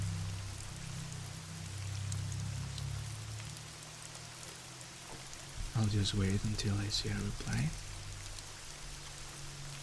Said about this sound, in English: just let me know if the rain is too low or too high and I'll change it